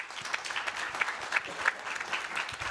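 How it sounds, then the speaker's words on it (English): Steady audience applause at a conference on climate resilience and nature-based development, a dense even patter of many hands clapping throughout, fairly distant with no talk over it. "Can we give Dr. Berje van Messenbeck a round of applause, please?"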